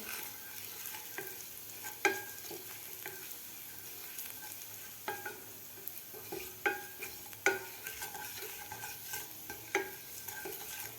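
Garlic fries with a pinch of asafoetida and turmeric for a green moong soup, a steady soft sizzle broken by sharp scraping knocks of a spoon stirring the pan every second or two, close and alone.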